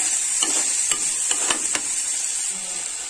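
Garlic and ginger paste frying in a pan, a steady hiss with a few soft stirring scrapes and taps spaced through the clip, no voices.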